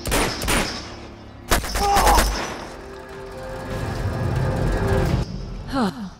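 Gunfire in Uncharted 2: Among Thieves, loud bursts of rapid shots in clusters with booming impacts, followed by quieter rumbling action.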